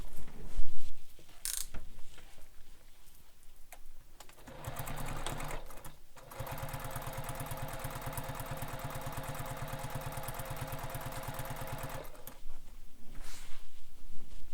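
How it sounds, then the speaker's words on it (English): A sewing machine top stitching down the long edges of a messenger bag strap. After a few handling sounds it runs in a steady, fast mechanical whir for several seconds, stops, and then starts again. "So now I'm going to top stitch my strap down both long edges."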